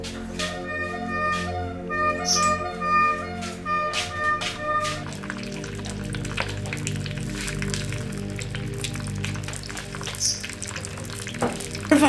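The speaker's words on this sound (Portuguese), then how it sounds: "Agora vai-se mexendo" Food sizzles and crackles continuously in a frying pan as it is stirred, a dense close hiss with a faint tonal hum at the start.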